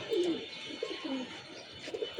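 Domestic pigeons kept by local pigeon fanciers coo softly nearby, a few short throaty rolling calls spread across a couple of seconds with no talk.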